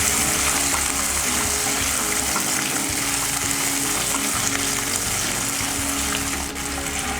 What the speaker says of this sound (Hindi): हम इसे तब तक भूनेंगे जब तक इसका कलर गोल्डन ब्राउन नहीं होता।